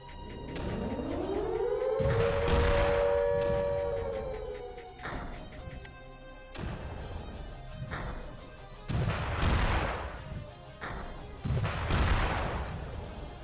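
Cannons firing in the strategy game Creeper World Ursa: a series of sharp, booming blasts arriving every second or two, some overlapping, with a rising whine near the start and a low rumble between shots.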